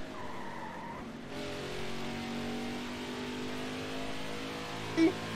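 A race car skids sideways with a long tire squeal over a steady engine drone in the NASCAR Heat racing video game, the sound holding for several seconds before a short sharp blip near the end.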